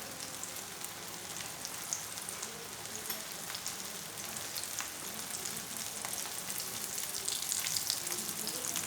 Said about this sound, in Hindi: इस तरह हमने गर्म घी में ही डालनी है। ये देखिए एक दफ़ा मैंने सिर्फ 4 ही डाली हैं